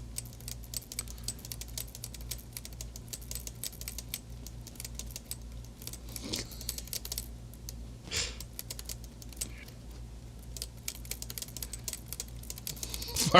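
A 1935 IBM Model 01 electric typewriter under repair, typing in fast, irregular bursts of clacking keystrokes over a steady low motor hum, with a few louder strikes standing out.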